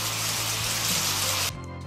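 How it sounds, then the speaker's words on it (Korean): Rain from the Voyager Golden Record: a steady, dense hiss of falling water that runs evenly, then drops abruptly to a quieter wash near the end. "빗소리."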